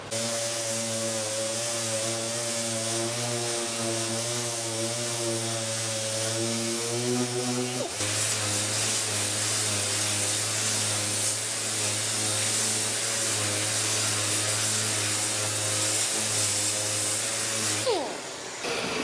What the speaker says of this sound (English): I got to turn on the vacuum.